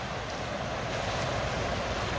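Finley Creek runs strongly over rocks near Finley Falls in western North Carolina, producing a steady, dense rushing wash that holds even and loud throughout with no voices.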